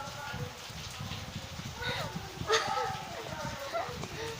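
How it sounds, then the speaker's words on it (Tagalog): Heavy rain falls outside in a dense, steady hiss of drops on surfaces, with a voice talking over it and a few brighter splashes and knocks mixed in. "Naulan dito, guys. Naulan dito lakas eh."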